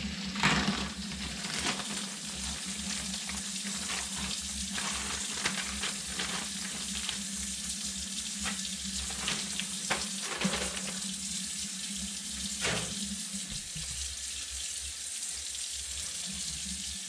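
Running water rinses salted pork for homemade bacon, giving a continuous close splashing stream with occasional clunks and handling noises and no speech.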